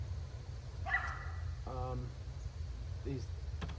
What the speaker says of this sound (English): Oh, no, the dog's gonna bark.